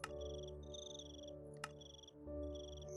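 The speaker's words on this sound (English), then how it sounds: "Oh, I think that was another suicidal cricket." Cricket chirps in the video game Life in the Woods: Renaissance, steady pulsed trills in repeated bursts with short gaps, set over a constant droning ambient game soundtrack.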